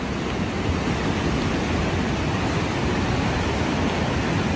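A flooded river swollen after a storm rushes past in a steady, dense broadband roar of churning water, constant and fairly loud throughout with no voices.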